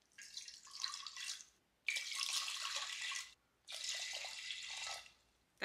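Water pours from a kitchen tap into a cooking pot in three separate bursts, each a steady splashing stream a second or two long with short silent gaps between.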